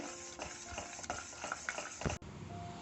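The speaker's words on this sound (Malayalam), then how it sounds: "ഒരു 2-3 മിനിറ്റ് നമുക്കിതിങ്ങനെ മിക്സ് ആക്കിക്കൊണ്ടിരിക്കണം. ഇത് തിളച്ച് വരണം നന്നായിട്ട്." Custard milk mixture for an eggless caramel bread pudding bubbling in a pan while being stirred, with soft scraping strokes and light simmering crackle at close range, ending in a brief knock.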